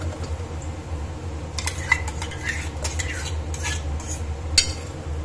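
Tomato paste frying with okra and green peas for sambar: a spoon scrapes and clinks against the pot in bursts over a low, steady hum, with a faint sizzle underneath.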